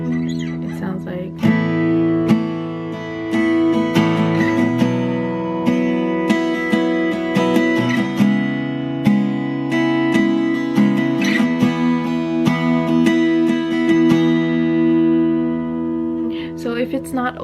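Open E guitar chords strummed repeatedly in a steady rhythm, ringing out close and fairly loud, with a sharp attack on each stroke.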